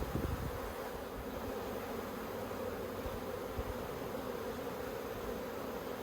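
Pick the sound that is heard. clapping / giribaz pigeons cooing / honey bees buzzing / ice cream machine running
honey bees buzzing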